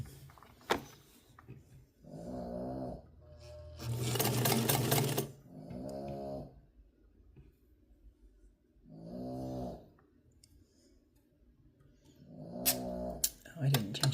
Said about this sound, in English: I'm also going to try a straight stitch, which I think is M